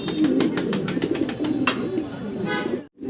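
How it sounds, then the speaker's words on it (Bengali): Fancy pigeons coo in low rolling phrases close by, repeating steadily with a few faint chirps and clicks in the background. "দুইটাই হচ্ছে মাদি কবুতর"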